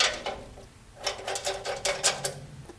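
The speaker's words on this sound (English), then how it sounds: "you can snug those up with a 13mm socket" Socket ratchet snugging bolts with washers and lock washers on the metal bracket of an industrial sewing table's legs, making quick, close runs of rapid clicking in several bursts.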